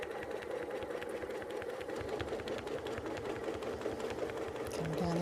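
A sit-down long arm quilting machine stitches steadily through a ruler-quilted diamond block, its fast, even motor hum and needle clatter continuous and close, with faint talk and a slight rise at the end.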